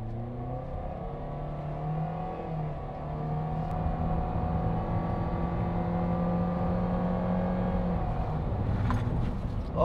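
A car accelerating hard in drive mode during a speed test, its engine a steady, close, continuous drone that builds slightly in strength over about ten seconds with no talking.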